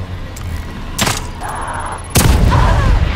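Two heavy gunshots ring out in The Evil Within 2 video game, sharp loud booms about a second apart, the second followed by a rumbling tail and a brief tone in between.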